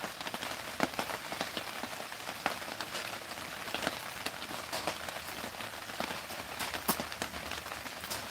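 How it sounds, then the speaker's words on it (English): Rain patters on a tent roof overhead, a steady close drumming with scattered louder drops striking the fabric, heard alone without talk. "Can you hear the rain hitting the tent above me?"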